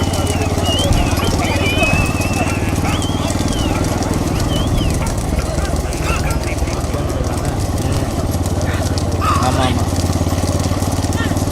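Racing bulls pulling carts in a bullock cart race thunder past steadily, hooves and wheels churning under a loud, continuous crowd and engine din with a commentator talking over it.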